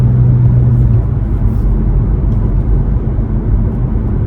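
Steady low rumble and road noise inside a car cruising on the German Autobahn, a constant near drone of engine and tires with no talk.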